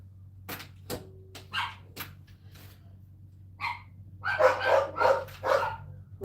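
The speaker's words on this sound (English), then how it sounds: "You can hear these dogs crying." Several dogs bark in short, spaced bursts with a few higher yelping cries, fairly close and loud against a low steady hum, with a louder cluster of barks near the end.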